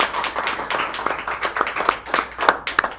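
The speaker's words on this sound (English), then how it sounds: "Let's give a round of applause here for Johnny Schober." A small audience at a songwriter swap claps in scattered, uneven bursts, the hand claps fairly close and lively, with a voice faintly underneath.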